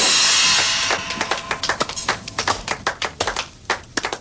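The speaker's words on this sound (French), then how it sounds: "Je suis profondément touché par le volume de vos applaudissements." Audience applause in a French crime drama scene: a dense wash of clapping that thins into scattered, separate sharp claps, fairly close and loud, with no voices.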